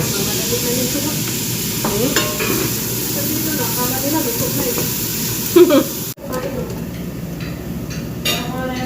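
Chinese-style noodles fry and get stirred in a pan, making a continuous hiss and sizzle with scraping strokes. A brief sharp knock breaks in midway, then the frying continues more quietly, with some voices faint in the background.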